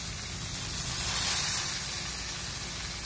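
Onions sizzling in hot oil in a pan while making a dipping sauce for fried tilapia, a steady bright crackling hiss that holds evenly throughout with no talk.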